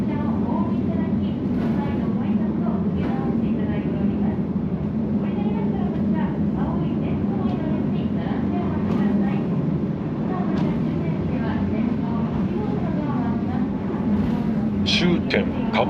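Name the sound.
trolley train riding on a freight line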